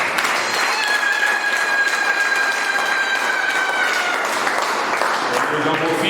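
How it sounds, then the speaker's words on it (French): Audience at a diocesan jubilee celebration clapping loudly for Pie Tshibanda, a dense wash of applause with a faint sustained tone running through the middle and a voice softly present underneath. "je vous invite à l'applaudir très fort."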